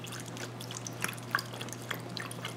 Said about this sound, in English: You see? The water start pumping.